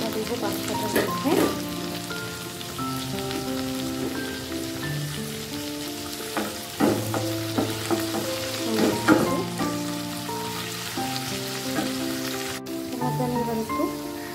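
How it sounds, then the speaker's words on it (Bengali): Vegetables with cauliflower added fry and sizzle steadily in a pan while being stirred now and then, a close, continuous crackle with no talk. "এগুলো ফ্রাই হচ্ছে, তার মধ্যে আমি একটু ফুলকপি দিয়ে দিলাম।"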